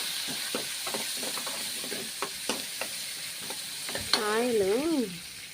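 Onions and curry leaves fry in oil for a bottle gourd curry, with a crackling sizzle and several spoon scrapes, then a rising and falling whistling tone near the end.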